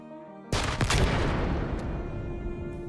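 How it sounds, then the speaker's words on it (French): A rocket explodes against a locomotive: a sudden loud blast after a brief quiet moment, followed by a long, heavy rumbling decay that fades slowly. "C'est le bruit d'une roquette envoyée par les maquisards pour immobiliser la locomotive"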